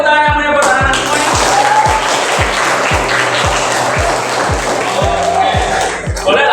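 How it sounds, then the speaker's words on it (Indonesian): Children clapping together in unison in a classroom, a steady rhythmic patter of hands at a brisk even beat, loud and close, with voices mixed in under the claps. "Boleh tepuk tangan yang menyebut anak-anak semuanya."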